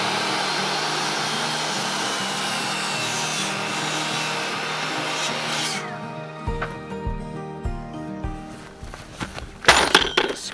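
A power saw cuts wood for a shed-to-house conversion, a loud continuous buzzing rasp that stops around the six-second mark, followed by scattered knocks and clatter of the workpiece and tools.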